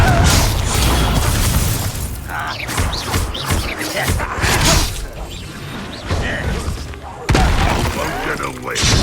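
Confringo blast spell from the Hogwarts Legacy video game, a loud fiery burst with booming thuds and shattering crashes, then further whooshes and impacts over nine seconds.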